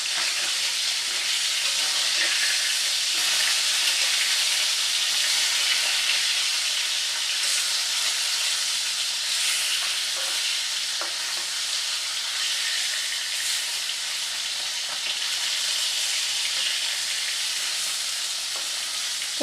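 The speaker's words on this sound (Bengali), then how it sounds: "মাছটা এক পিঠ ভাজা হলে আমি উল্টে দেব।" Pieces of rohu fish fry in hot oil in a pan, giving a loud, continuous hiss and crackle with no talking.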